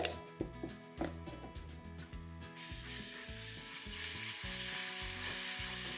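Onions frying with ginger garlic paste in a pan for palak aloo pulao, a steady sizzle over a repetitive mechanical ratcheting clatter that grows denser partway through, no speech.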